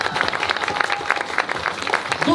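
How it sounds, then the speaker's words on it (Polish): An audience at a children's health song festival in Szydłowiec applauds during the prize announcements. Dense, steady clapping fills the whole stretch at close range, with no pauses. "Duże brawa dla wszystkich"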